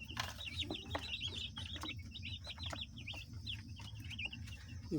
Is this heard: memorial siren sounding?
no